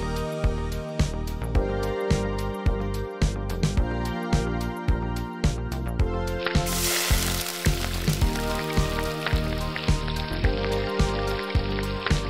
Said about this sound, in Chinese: 加入三四成的油温中进行浸炸